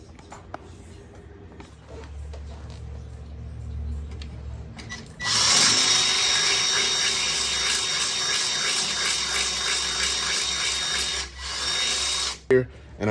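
A power drill bores through the metal bull bar of a Ford F150, a steady, loud, high whine running for about seven seconds before it stops, with someone talking quietly beforehand.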